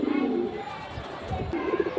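A high-flying pigeon kept among a pair of fancy breeds gives soft, low cooing close by, in brief rolling phrases over a slightly noisy background.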